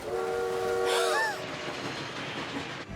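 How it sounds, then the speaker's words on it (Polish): A cartoon train horn blares with a sustained chord, then rail rumble and clatter continue as the train draws near, fairly loud throughout. "O, pociąg jest bliżej niż myślałem."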